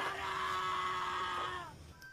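A boy's sustained high scream rises from a shack in an Indonesian horror film scene, a single cry lasting over a second before cutting off, heard at a moderate distance over a low noisy background.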